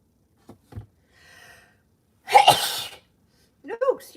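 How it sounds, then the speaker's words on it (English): A single sharp, loud sneeze bursts out during a live tarot card reading, preceded by a few soft breaths and quiet sounds and followed by a short voiced noise. "I'm going to sneeze."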